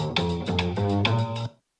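A brief loop of the original sample, a short percussive musical phrase with a few accented hits over sustained tones, played alone and clear before cutting off into silence.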